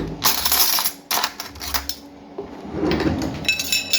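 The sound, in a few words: spoons being picked up and handled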